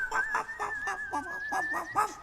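Several dog barks in a steady rhythm under a sustained eerie whistling tone, part of a spooky read-aloud story scene with wailing.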